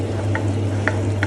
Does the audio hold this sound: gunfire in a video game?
no